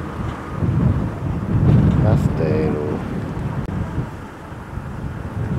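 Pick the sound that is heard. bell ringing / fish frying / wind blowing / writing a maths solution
wind blowing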